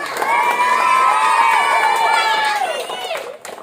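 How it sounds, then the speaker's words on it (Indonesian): A crowd of elementary school students cheers and shouts loudly at an award ceremony, with high children's voices whooping together in a sustained burst that fades near the end. "kasih aplaus"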